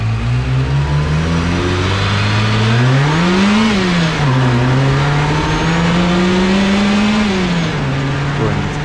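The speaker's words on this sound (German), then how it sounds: "für mich kam der G60 in Frage, alleine wegen dem Sound, was der G-Lader so mit sich bringt." A VW Golf 3 with a supercharged G60 engine revs loudly nearby, the engine note climbing and falling twice in long sweeps over a steady idle, with supercharger whine layered in.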